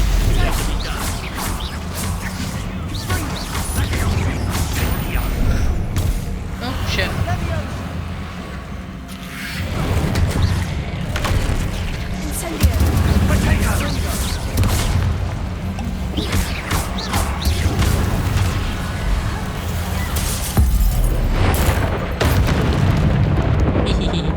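Confringo and Incendio spell explosions in the video game Hogwarts Legacy boom and crackle repeatedly during a final battle, loud fiery blasts arriving in bursts under and between continuous spoken dialogue.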